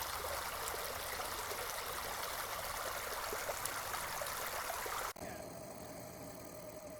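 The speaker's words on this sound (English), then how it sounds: "the water flows down and through the rocks" Water in a stream flowing down and through rocks, a steady broadband rushing wash heard close for about five seconds before it cuts abruptly to a quieter, different background.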